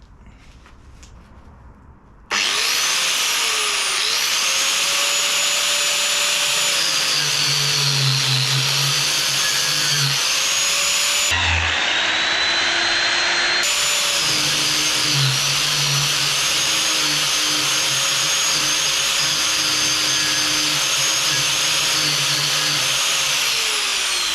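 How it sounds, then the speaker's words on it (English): A high-pitched rotary power carving tool starts abruptly and whines steadily, briefly changing pitch midway as it bites into wood, then continuing loud and constant. "They also say you can use it for carving out wood, so let's have a go at doing that."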